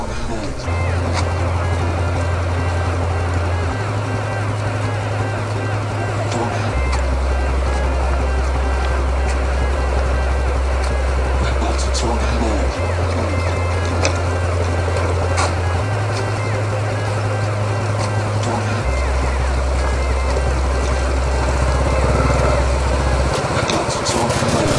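A motorcycle engine laboring hard uphill on a muddy mountain road, droning for a long stretch, pitch stepping through gears, with a rider's voice over the top.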